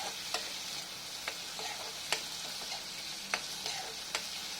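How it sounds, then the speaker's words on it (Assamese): Chunky tomatoes for an egg curry sizzle in a frying pan under a steady hiss, while a spoon scrapes and clicks against the pan roughly every second. "এতিয়া মই বিলাহীও দি দিম।"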